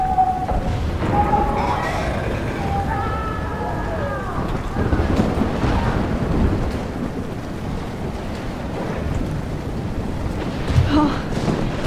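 Storm wind and thunder rumble in Life Is Strange, a steady roaring wash with low booms near the middle and end. Tonal sounds and a voice rise over it early on.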